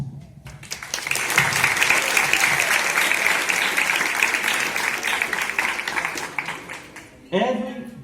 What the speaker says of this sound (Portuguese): eu quero uma salva de palmas para os meus convidados, Sâmia Gabriele de Souza Santos,